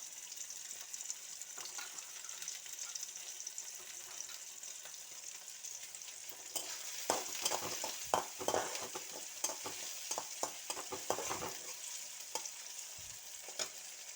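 Chopped onion and green chillies fry in oil in a pan, with a steady soft sizzle and louder bursts of stirring and scraping midway, no talking.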